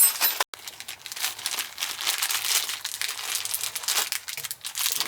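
A B & G hot water circulator pump runs with a loud, steady rattling and crinkling mechanical noise, heard close and alone for several seconds after a brief dropout.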